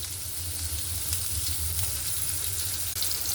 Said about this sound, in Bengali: আমি এখানে সব এঁচড়গুলোকে একটু সুন্দর করে ভেজে নেব